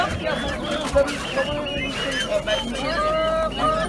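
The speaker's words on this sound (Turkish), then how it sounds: "Evet burada yine ördekler var." Ducks quack and honk at a poultry market in Sakarya, Turkey, while people talk nearby, calls overlapping throughout.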